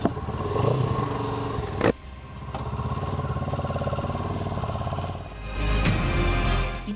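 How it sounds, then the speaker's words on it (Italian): A CF Moto 700 CL-X Heritage twin-cylinder motorcycle pulling away, its engine holding a steady, moderately loud hum before a sharp clack and a louder surge of revs near the end. "Il bicilindrico è regolare e pronto a essere rigirato in diversi regimi, accompagnato da una bella voce, educata ma vigorosa"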